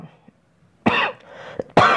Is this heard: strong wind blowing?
no